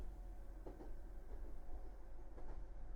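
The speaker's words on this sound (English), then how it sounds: "The train was still running." Video game Raging Loop: a train keeps running through a mysterious station, heard as a faint, low, steady rumble with soft, irregular clacks of wheels on track.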